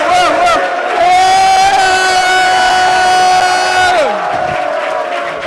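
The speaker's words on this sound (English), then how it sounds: "Clap it up." A crowd at a party convention cheers loudly with sustained whoops and yells that rise together and hold for several seconds before fading.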